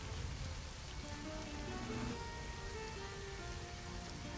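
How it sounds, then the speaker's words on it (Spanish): Steady rainfall in the city-building game SimCity Societies: Destinations, a soft, even hiss of rain heard alone and fairly faint, with no voices. "Y la lluvia."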